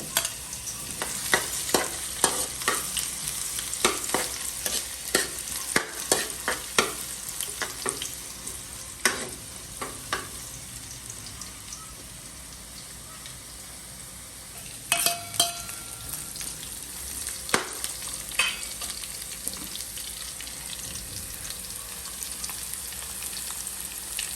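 Garlic sautés in a pan for squid adobo, a steady oily sizzle under repeated scraping stirs of a utensil against the pan, fairly close and continuous throughout.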